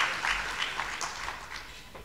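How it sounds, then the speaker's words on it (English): An audience applauds at the UHAS Grand Durbar 2022 anniversary ceremony, a steady wash of clapping from a crowd that holds for a couple of seconds and slowly tapers off. "Shall we applaud for the wonderful things that has happened to you?"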